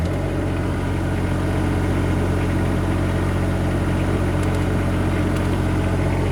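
A Chinese 1.8-tonne mini excavator's engine idles while warming up before an oil change, a loud, steady low diesel chug that runs unbroken with no talking.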